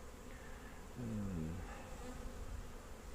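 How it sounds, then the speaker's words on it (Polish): Honeybees buzzing around a beehive at an apiary, a steady low hum that swells briefly as a bee passes close, with no voices. "Tu się zrobił nalot, bo pszczoły"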